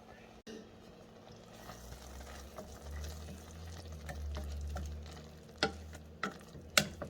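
Blueberry cranberry sauce is stirred in a pot, giving soft scraping and sloshing with a few sharper utensil clicks toward the end, close and quiet.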